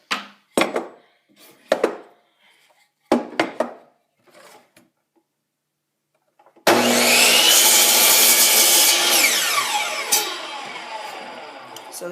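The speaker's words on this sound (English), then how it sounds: "I'm just gonna take that over to the miter saw and cut that" A miter saw slices through a wooden rib with a loud, sustained whine lasting several seconds, rising from silence and tapering near the end, preceded by a few short knocks and handling sounds as the piece is set.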